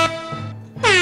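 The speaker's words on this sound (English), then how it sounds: "Oh my god. Airhorn." An air horn gives a short loud blast, then a brief gap and a second piercing blast, close and harsh.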